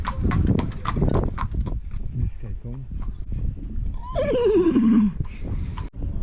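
A horse whinnies loudly, a descending neigh lasting about a second, over ongoing conversation and outdoor background noise, in Chania, Crete.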